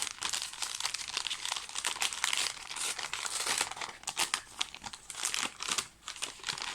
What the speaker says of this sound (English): Crinkle, crinkle, crinkle for the last time